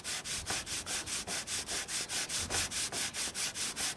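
Rhythmic back-and-forth sanding of a pasted balsa wood strop, steady rasping strokes about eight per second, close and fairly quiet, with no voices.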